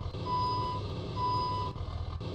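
A farm truck in a farming video game backs up, its steady high reversing beeps chiming over a low idling engine rumble. Two brief cutouts interrupt the sound near the end.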